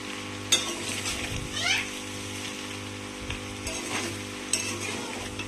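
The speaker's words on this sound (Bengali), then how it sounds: "এই যে সবজিগুলো দিয়ে দিয়েছি। এবার নাড়াচাড়া করে নিতে হবে।" Vegetables stirred and frying in a pan, with a constant sizzle, scraping spatula strokes and occasional clinks against the pan, close and steady without talk.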